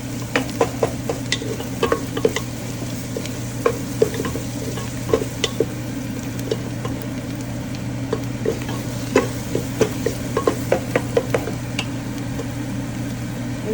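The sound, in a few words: frying and stirring curry ingredients in a pan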